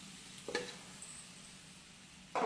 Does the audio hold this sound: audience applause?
no